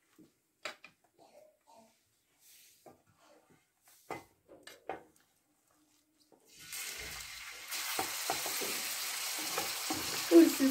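Onion and garlic are dropped into hot oil in a pan and start to sizzle loudly and steadily partway through, after quiet handling noises and a few soft clunks.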